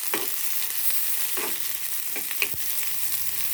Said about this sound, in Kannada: ಇದನ್ನು ಚೆನ್ನಾಗಿ ನಾವು ಫ್ರೈ ಮಾಡೋಣ. ಚೆನ್ನಾಗಿ ಫ್ರೈ ಆಗೋ ತನಕ ಅದನ್ನು ಮಿಕ್ಸ್ ಮಾಡೋಣ.